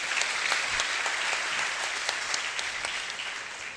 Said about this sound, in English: give a round of applause for his expertise